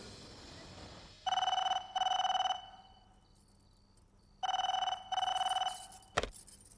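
A telephone rings in a dramatic film scene: two loud double-ring bursts separated by a pause of quiet room tone, followed by a short click.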